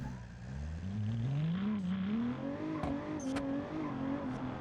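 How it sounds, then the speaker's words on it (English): A simulated twin-turbo V6 car engine in a video game starts, hums and revs, its pitch rising steadily, with a few sharp clicks over the drone. "the engine sounds pretty good"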